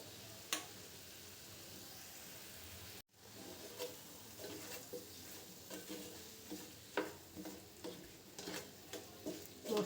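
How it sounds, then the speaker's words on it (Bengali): Spices stir-fried in a pan for a raw banana curry, with a low continuous sizzle under repeated spatula scrapes and taps, close and fairly quiet, with a brief dropout early on and no speech. "মশলা ভালো করে কষাবো"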